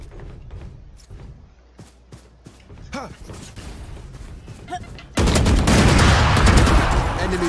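Gunfire in the video game Valorant: a run of sharp, separate shots with quiet gaps between them, then a sudden dense burst of loud sustained fire near the end, with a voice talking over the quieter stretch.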